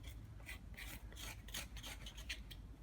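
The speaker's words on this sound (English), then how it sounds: "I'm going to scrape this a little bit" A tool scrapes the wood of a bonsai raft tree trunk in short, quiet, rasping strokes repeated at an irregular pace, close up and without any talking.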